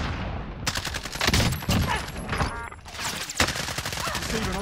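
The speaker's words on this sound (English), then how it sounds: "Receiving hostile fire." Dense bursts of automatic gunfire in a battle royale video game, rapid overlapping shots rattling continuously across the whole moment, loud and close with brief lulls.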